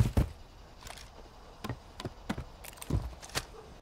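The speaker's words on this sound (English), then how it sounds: "you actually produce a distinct climbing sound when you go from bottom to top." Ladder climbing in a multiplayer shooter game makes a series of short, sharp, irregular thumps and clanks, about eight in four seconds. They are fairly faint and there is no talk.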